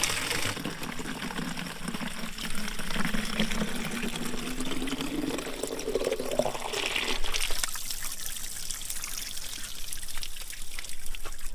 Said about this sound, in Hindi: फाइनली दोस्तों हमने पानी भी भर दिया है